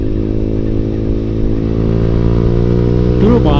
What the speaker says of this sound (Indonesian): kita udah tarik gas ya, tarik kuas gas, mantap.